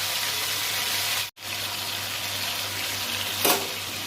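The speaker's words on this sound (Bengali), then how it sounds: "চিংড়ি মাছটা ভেজে নেবো" Shrimp fry in a pan with a steady, close sizzle. The sound drops out for a moment, then resumes with a short louder spit of oil near the end. No one speaks.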